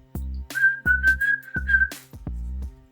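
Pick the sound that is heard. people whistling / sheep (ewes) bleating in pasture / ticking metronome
people whistling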